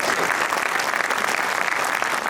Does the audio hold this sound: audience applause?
yes